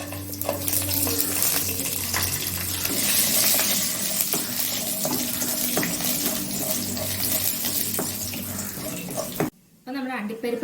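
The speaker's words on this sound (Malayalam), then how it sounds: "ഇനി നമുക്ക് ഇതിലേക്ക് അണ്ടിപ്പരിപ്പ് ചേർത്ത് കൊടുക്കാം." Cashew nuts fry in hot ghee in a pan for a sweet poori recipe, producing a loud, dense, continuous sizzle that cuts off abruptly near the end.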